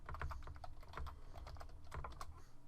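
Rapid, close keystrokes on a computer keyboard as a username and password are entered, a quick irregular run of soft clicks with a steady low background hum; no talking.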